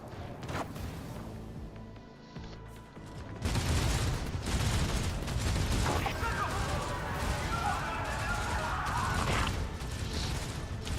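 Gunfire and combat in Warhammer 40,000: Rogue Trader, a quieter mechanical passage giving way to a loud, dense burst of shots, crashes and smashing that continues steadily to the end.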